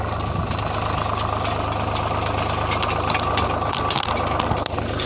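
A tractor engine chugs steadily and loudly up close, pulling a kurpa weeding tool through a soybean field, with a low rumbling drone and faint rattles and no voices.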